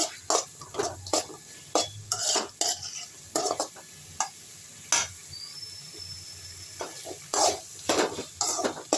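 Guava chutney ingredients, tomatoes included, sauté in a pan with a soft sizzle under repeated clinking, scraping strokes of a metal spoon stirring, irregular and close.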